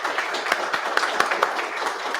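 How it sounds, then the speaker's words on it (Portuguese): A short burst of clapping from a small audience at a panel discussion at a software user group meetup in Brazil, steady and fairly close, fading after about two seconds. "Salva de palmas para o pessoal aí"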